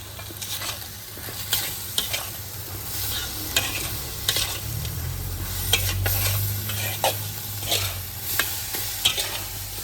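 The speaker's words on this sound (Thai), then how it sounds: "น้ำปลา น้ำตาลผงปรุงรส ผัดให้แห้งค่ะ" Minced pork is stir-fried dry in a pan with fish sauce and seasoning sugar, a continuous close sizzle broken by repeated sharp scrapes and taps of a spatula and a low burner rumble, with no voices.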